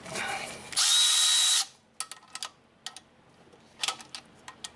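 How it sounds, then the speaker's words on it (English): A power tool whirs in a short loud burst, removing 12 mm bracket bolts on a 2012-2015 Honda Pilot during power steering pump replacement, followed by scattered metallic clicks and taps of bolts and tools. "So we're going to pull this bracket off. Two 12 millimeter bolts right here."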